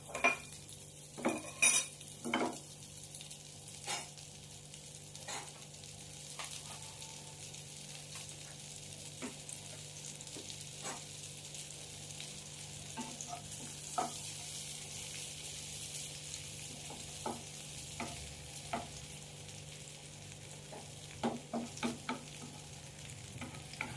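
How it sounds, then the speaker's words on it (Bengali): About two spoons of butter sizzle in a frying pan just used for chicken, a quiet, steady hiss broken by frequent clinks and scrapes of a utensil against the pan, close by with no talking. "আমি 2 চামচের মতো বাটার দিয়ে দিচ্ছি।"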